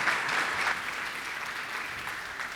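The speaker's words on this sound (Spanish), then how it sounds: "Le damos un aplauso." Applause from a church audience thanking a man named Gabriel after his testimony, steady and fairly loud throughout the whole stretch with no voices over it.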